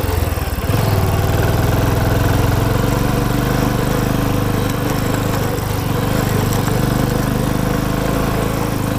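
Motorbike engines of riders on a road run as a loud, steady, close drone for the whole stretch, with no voices over it.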